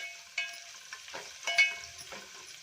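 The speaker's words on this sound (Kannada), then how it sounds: "ಬೆಳ್ಳುಳ್ಳಿನ ನಾನು ಜಜ್ಜಿ ಹಾಕೋತಾ ಇದ್ದೀನಿ ಈಗ ಚೆನ್ನಾಗಿ ಫ್ರೈ ಮಾಡ್ಕೊಳ್ಳೋಣ" Crushed garlic fries in a pan for holige saaru, a steady close sizzle broken by several sharper scraping stirs.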